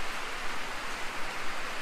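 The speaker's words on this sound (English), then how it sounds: "it's a wet, nasty morning over here. As you can see, it's raining" Steady morning rain hisses evenly on a surface nearby at a sawmill setup, a soft continuous wash with no other sounds.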